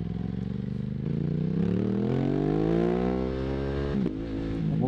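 An Aprilia RS 660 Extrema motorcycle accelerates hard, its engine note climbing steadily in pitch through one long pull, close and loud, then dropping off briefly before picking up again.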